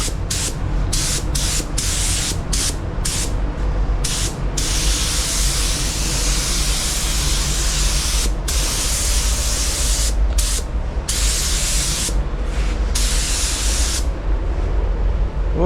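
A spray gun applies paint code 792 to a Mercedes W166, a loud continuous close hiss broken by several short pauses as the trigger is released.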